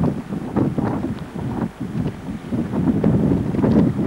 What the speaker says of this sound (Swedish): jävla blåsigt här.